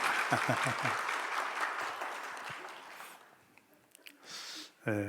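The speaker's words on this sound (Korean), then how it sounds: "성가대와 우리 다 같이 한번 박수합시다." A church congregation and choir applaud together during a Sunday service, dense clapping that fades out over a few seconds, followed by quiet room sound and a brief voice near the end.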